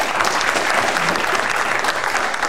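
Audience applause for two quiz contestants at a lively game show, a dense, steady burst of clapping from a crowd filling the whole short stretch at close range.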